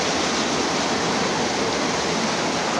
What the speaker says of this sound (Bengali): দোকানে পানি ঢুকে গেছে, দোকানে পানি ঢুকে গেছে।